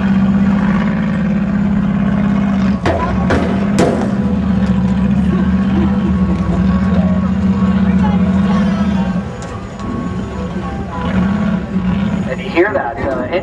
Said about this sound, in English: Hear that engine underneath the hood of the rock bug.